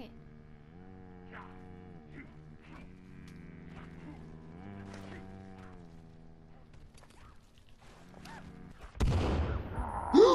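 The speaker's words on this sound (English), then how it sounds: "Fireworks." Fireworks burst in the survival video game The Forest, breaking in suddenly near the end as loud, dense crackling blasts after a long stretch of soft tonal game sound and quiet voices.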